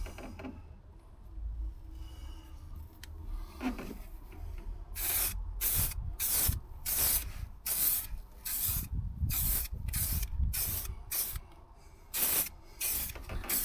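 Aerosol paint sprayed in light coats onto a rusty Ford Transit sill and step: after faint handling noises, a rapid series of short, close hissing bursts.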